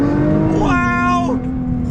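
Nissan GTR launching hard from a dead stop, a loud, close engine note that climbs steadily in pitch through a strong acceleration run, then drops off briefly near the end.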